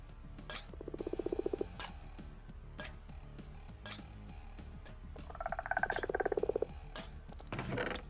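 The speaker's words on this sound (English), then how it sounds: "The frogs will stay close, because they're on the leads." Minecraft frogs croak on leads in a quiet scene: two bursts of rapid, rattling croaks, the second longer and fuller, over faint clicks and taps, with no speech.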